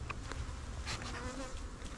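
Honey bees buzz around nuc hives being built up for almond pollination, a steady close swarm drone with individual bees whizzing past, faint overall and with no talk.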